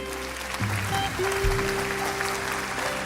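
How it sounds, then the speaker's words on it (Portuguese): Church congregation applauding during a worship service, a dense wash of clapping that holds steady throughout, with sustained organ or keyboard tones and voices beneath it. "Você pode aplaudir ao Senhor."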